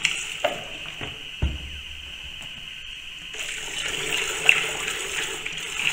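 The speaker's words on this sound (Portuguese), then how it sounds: "Despejando e mexendo bem." White alcohol vinegar poured into water as a homemade fabric softener, a soft steady trickle and splash that swells into a stronger gush, near and fairly quiet, no voices.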